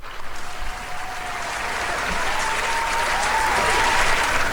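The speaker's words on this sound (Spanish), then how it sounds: "Preparen los aplausos" A studio audience at a Spanish-language talk show claps steadily, a dense and sustained round of applause that swells slightly toward the end, with no voices over it.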